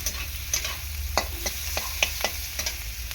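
Okra and prawns stir-fry in a pan, with a low steady sizzle and sharp, evenly spaced spatula clicks and scrapes against the metal, nearby and without speech.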